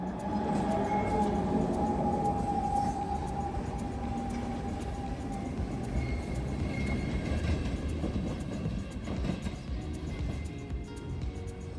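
The GoldenPass Express, a gauge-changing train in Switzerland, departs with a loud, steady rolling rumble and a faint tonal hum that stays continuous and close from start to finish.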